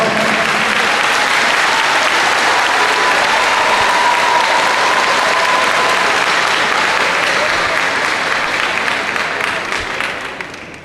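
A large audience at a live Haitian television broadcast claps steadily and loudly for about ten seconds, the applause fading out at the end.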